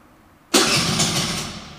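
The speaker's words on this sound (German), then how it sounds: "Aber der Klang, ey, vom Auspuff, der ist hammergeil." A car engine turns over and catches abruptly after a brief quiet, settling into a loud, close idle with a rumbling exhaust note.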